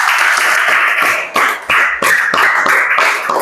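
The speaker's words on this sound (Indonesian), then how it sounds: "Oke, beri aplaus untuk Keisa." Primary school children in a classroom clap together in a lively burst of applause, with brief dips as the clapping briefly thins before picking up again.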